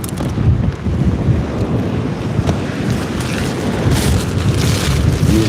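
Blustery wind buffets the microphone on England's south coast while sea fishing from a kayak, a steady, loud roar that runs unbroken throughout with no speech.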